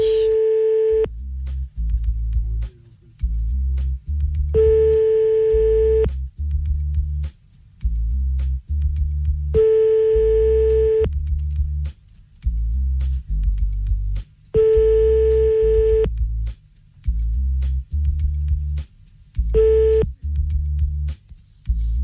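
A telephone busy signal sounds after dialling a number, a steady tone that repeats in regular pulses about every five seconds, loud and close, over a low rhythmic buzzing bed, with no talk.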